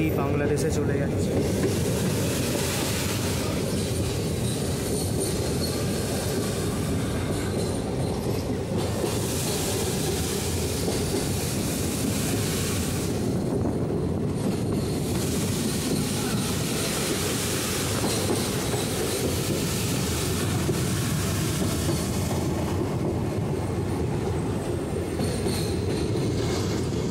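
Kanchenjunga Express running in a sleeper-class coach between New Jalpaiguri and Sealdah, a continuous close roar of wheels and rails with rhythmic clickety-clack and occasional wheel squeal, voices faintly mixed in.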